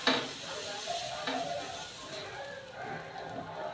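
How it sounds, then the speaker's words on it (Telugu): Jowar dosa batter sizzling on a hot pan as a ladle spreads it thin, a steady hissing fry with light scraping strokes, moderately close and fairly quiet. "ఇలా గరిట తీసి స్ప్రెడ్ చేస్తూ వేసుకుంటే పలుచగా వస్తాయి"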